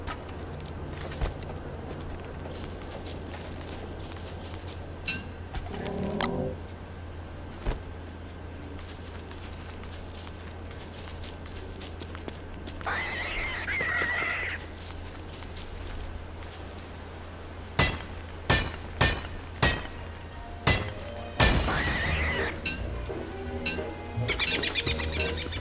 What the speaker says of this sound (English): All of these traps keep getting set off by the birds now.